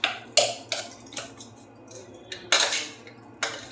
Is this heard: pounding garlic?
yes